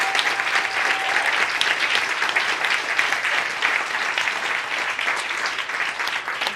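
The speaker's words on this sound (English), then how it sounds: "Let me have a super big round of applause for all the award winners." A crowd at a goals gala and awards gathering applauds the award winners, a loud, dense, sustained burst of clapping filling the room without letup for several seconds.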